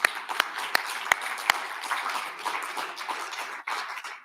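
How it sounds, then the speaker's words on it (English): Audience applause at a Krakow commemoration of 80 years since the liberation of Auschwitz, a steady wash of many clapping hands in a large hall with a few sharper individual claps standing out early, moderately distant and soft. "let's give them all a round of applause"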